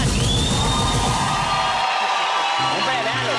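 Studio audience of a Colombian TV talk show, The Susos Show, cheering, whooping and yelling as actor Julián Román makes his entrance; a loud, dense crowd roar that continues throughout and thins briefly near the end.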